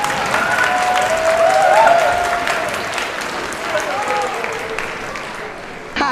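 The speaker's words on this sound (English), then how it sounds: "I think every group deserves another round of applause." An audience at a high school spring instrumental concert gives sustained applause, a dense wash of clapping from a large crowd that lasts for several seconds, with whoops and cheers rising above it.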